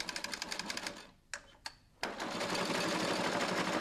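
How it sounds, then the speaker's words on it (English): A Speedbinder tape binder sews binding tape onto the edge of a carpet, a rapid rattling stitch that pauses with a few sharp mechanical clicks, then resumes as a steady close whirr. "Lower the top roller and carry on sewing."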